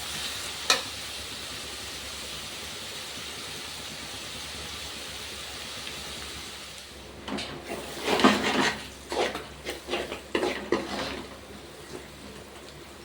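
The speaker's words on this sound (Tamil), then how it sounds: "வெங்காயம் நல்லா வதங்கியாச்சு" Onions sautéing in a pan for brinjal thokku masala: a soft steady sizzle at first, then a run of close scraping and clinking stirring strokes against the pan in the second half, with no talking.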